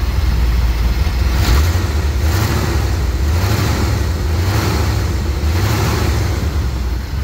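Close-up 350 V8 in a 1955 Chevy 3100 pickup, two-barrel carburetor, revved in repeated blips that rise and fall about once a second over a steady rumbling idle, loud and without talk.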